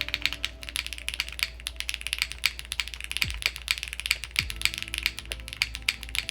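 Steady, rapid clacking of a mechanical keyboard with Cherry switches, crisp keystrokes in a continuous typing rhythm, close and moderately loud.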